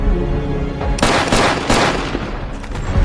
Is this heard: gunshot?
yes